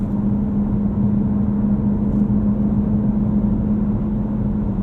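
A 2020 Dodge Durango SRT holds a steady, droning engine and road roar from inside the cabin, loud and even throughout with no voices.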